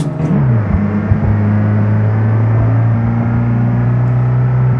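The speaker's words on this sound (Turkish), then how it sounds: "Biz dip gaz yapmak istiyorum. Kaça kadar basacağım onu görmek istiyorum." Ford Transit van engine in BeamNG.drive held at full throttle, a loud sustained drone that steps up in pitch as it climbs through gears, with a close, steady roar and no talk.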